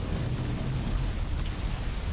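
Heavy rain during a downpour in Gujarat, a dense and steady hiss of falling water with a low rumbling undertone, continuous and fairly loud across the short stretch.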